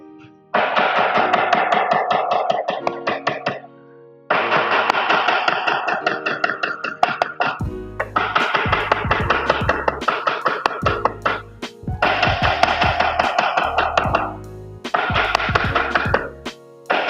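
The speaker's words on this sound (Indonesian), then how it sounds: "diketuk atau dipukul-pukul dengan palu karet sampai permukaannya berubah warna" A rubber mallet taps a freshly spread mixed surface in quick, even runs of knocks, loud and close, with brief pauses between bursts and no talking.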